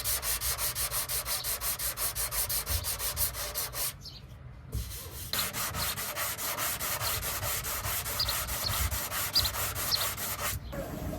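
Steady rhythmic back-and-forth sanding strokes rasp continuously on body filler on the passenger side of a 1987 Toyota Supra MK3, close by, with two brief pauses partway through.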